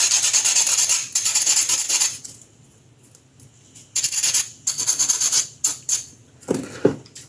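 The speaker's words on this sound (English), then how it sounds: "I'll sand it down again" A small sculpted part of a 1/6-scale Predator figure is sanded by hand, producing close, scratchy rasping strokes in irregular bursts separated by brief pauses, with no talk.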